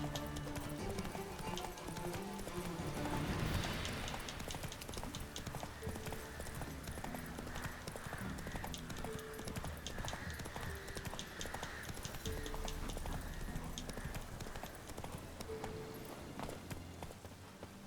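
Roach the horse gallops in The Witcher 3, her hooves drumming in a fast, steady rhythm that carries on throughout, with a faint snort now and then.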